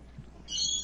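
A pet bird gives a single high, sustained whistling call that rises out of a quiet room background partway through and holds to the end.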